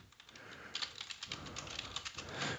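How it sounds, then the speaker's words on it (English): Someone types quickly on a computer keyboard, producing a rapid, uneven patter of close, fairly quiet keystrokes that continues throughout with no talk. "I'll just type it out for you."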